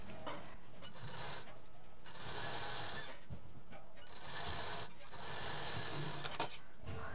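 A sewing machine stitches fabric onto a zip while making a three-pocket shoulder bag, running in several short bursts of fast mechanical whirring separated by brief pauses, close and moderately loud.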